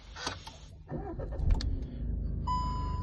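A 2019 SEAT Ateca with a 1.6 diesel engine cranks briefly with a few clicks and whirs, then catches and settles into a steady low idle, close by, with a warning chime tone at the end.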